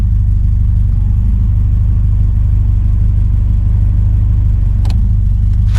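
A Ford Capri engine idles loudly and steadily after starting, a close, continuous low rumble with a brief sharp knock near the end.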